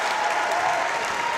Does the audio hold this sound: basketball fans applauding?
yes